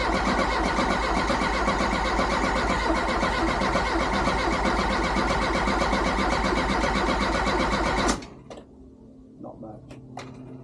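A Renault R8 Proto engine with modern ignition cranking over on the starter, a loud steady rhythmic churning for about eight seconds that cuts off abruptly, followed by quieter scattered clicks.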